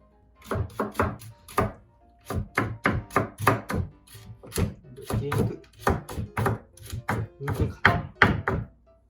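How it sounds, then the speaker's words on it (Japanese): A carrot finely minced with a kitchen knife on a cutting board: rapid, fairly close, uneven bursts of sharp chopping thunks running continuously, with no talk over them. "人参から切っていきます。 まず、みじん切りにしていくんですよ、これ。"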